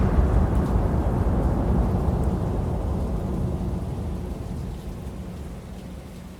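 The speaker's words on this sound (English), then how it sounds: "a massive thunderstorm rolled in without warning." Heavy, steady rain pours down with a deep rolling rumble of thunder underneath, slowly easing and growing quieter toward the end.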